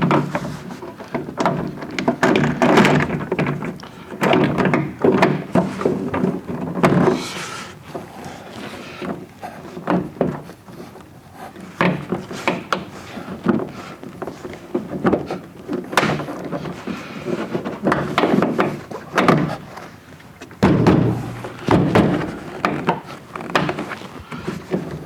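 An inner door panel being fitted onto a GM S10 Blazer door shell: irregular close knocks, rustles and plastic-and-metal handling thumps in bursts with short pauses.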